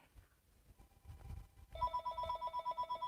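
A telephone rings loudly with a steady electronic warble of repeated pulses, kicking in after low rumbling handling noise and continuing to the end.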